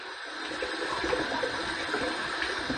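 Hot water running from a tap for warming shave cream, a steady, moderately close rushing stream with no voices over it.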